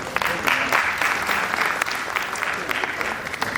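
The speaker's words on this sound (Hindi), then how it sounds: "एक बार तालियां बजा दीजिए इनके लिए।" Theatre audience clapping for the actors of a stage play, a dense steady burst of many hands applauding close and loud throughout, with a voice faintly mixed in.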